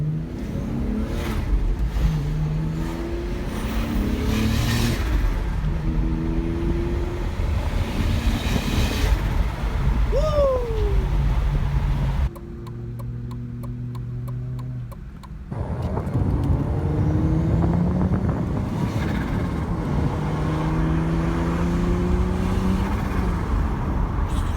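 A turbocharged car accelerates hard while racing a Porsche, its engine note climbing through repeated gear pulls with loud, close road roar, a brief quieter shift in the middle, then sustained pulling again.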